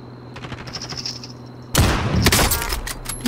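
Gunfire in Warzone near a TV station: faint, distant rapid shots at first, then a loud, close burst of automatic fire with scattered further shots afterward.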